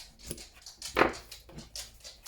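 A dog whimpers softly in short, faint whines, close by and quiet, with a few breathy sounds in between.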